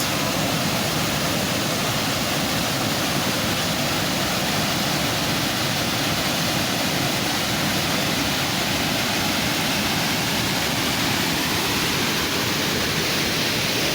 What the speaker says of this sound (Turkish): Canikdere Şelalesi'nin güzelliğini tüm dehşetiyle akışını izliyorsunuz.